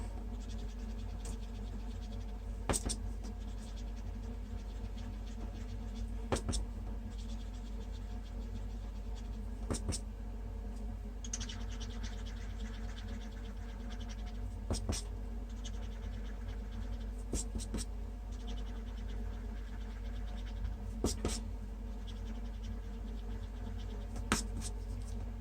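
Paper being wiped to lift off alcohol ink, a soft, steady rubbing scratch close by with faint periodic sharper strokes every few seconds.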